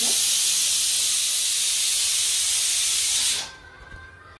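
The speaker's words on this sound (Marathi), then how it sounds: "आता कुकर लावले आणि स्वयंपाक करते" A pressure cooker vents steam in one loud, steady hiss for about three and a half seconds, then cuts off abruptly, leaving a quiet room.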